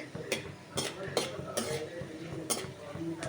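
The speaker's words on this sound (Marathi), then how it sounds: "तर त्यामुळे मी यांना थोडंसं परतून घेते." Peanuts stirred and roasted in a pan for rava sheera, with repeated sharp scraping strokes of a utensil against the metal over a steady low sizzle, close and moderately loud.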